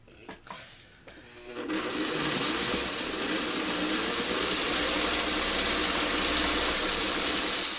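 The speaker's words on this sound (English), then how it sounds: "So you sew these 2 together." A few quiet handling clicks and rustles come first, then a sewing machine starts up to join quilt pieces, settling into a steady, fast, close mechanical whir that runs on without talk.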